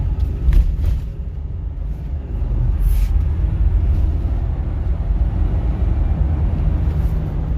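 Low, heavy rumble of a 2020 Ford F-250 Limited pickup with the 6.7L engine under full-throttle acceleration, building smoothly with no audible gear shifts, heard from inside the cab with a few faint clicks.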